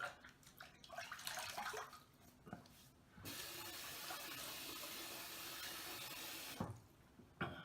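Running water splashes steadily as a face is wetted at a sink before shaving, a continuous broadband wash lasting a few seconds between softer handling noises, close and fairly loud.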